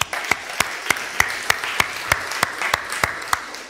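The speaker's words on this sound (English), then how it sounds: "can we just clap for our leaders?" Church congregation applauds its leaders with sharp, evenly spaced claps about three per second, sounding over a steady bed of crowd noise.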